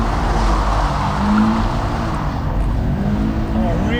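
A stock car held in a long, sustained skid, its loud engine roar and tyre scrub running continuously and close by for the whole stretch, with a faint voice briefly audible underneath.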